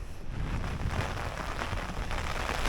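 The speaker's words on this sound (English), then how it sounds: "it started raining again in good old Sillamäe today." Steady rain pours down in Sillamäe, Estonia, a dense, continuous patter on surfaces, fairly loud and close, with no voices.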